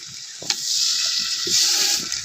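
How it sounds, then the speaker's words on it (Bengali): Ground spice paste of ginger, garlic, cumin and coriander fries in hot oil, giving a steady loud hiss and sizzle with a few soft knocks from stirring. "ভালোভাবে মশলা কষিয়ে নেব।"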